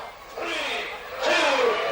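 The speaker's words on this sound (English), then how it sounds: "The crowd are really getting into this now" Crowd at a British professional wrestling show roaring and shouting, a swelling burst of cheers that grows louder toward the end of the short stretch.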